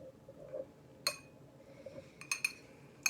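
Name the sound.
spoon mixing butter into frumenty in a bowl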